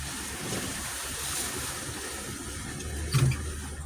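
An off-road truck on a wooded trail pushes through a shallow water crossing, a continuous close rushing splash and wash of water over a low engine rumble, with a brief louder slosh near the end.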